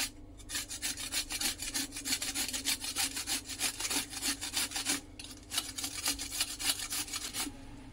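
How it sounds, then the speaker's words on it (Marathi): A cucumber is grated upright on a metal hand grater for a traditional Konkan dish. Rapid, rhythmic scraping strokes come close and steady, with a brief pause midway. "किसणीवरती आपल्याला काकडी उभी किसून घ्यायची आहे."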